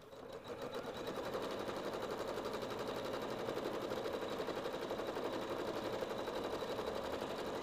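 A home embroidery machine stitches an applique Christmas ornament onto stabilizer, a fast, rhythmic mechanical chatter that starts softly and settles into an even, continuous stitching drone with no talking.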